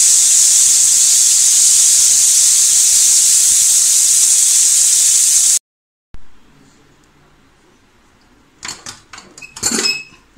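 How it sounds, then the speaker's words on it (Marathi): A pressure cooker of chana gravy on a high flame lets out a loud, sustained steam hiss. The hiss cuts off abruptly and is followed by quiet and a few clattering metallic knocks. "आता आपण कुकरला झाकण लावूया आणि मोठ्या गॅसवर 4 शिट्या देऊया."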